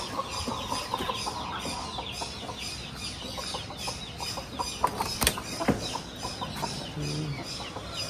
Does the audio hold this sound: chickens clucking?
yes